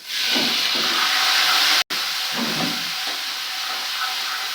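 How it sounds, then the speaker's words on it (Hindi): Tomatoes sizzle in a hot pan, a steady close frying hiss with faint stirring scrapes, interrupted by one brief cut of silence. "इनको अच्छी तरह से पका के और जी अब डाल दिया मैंने ये टमाटर"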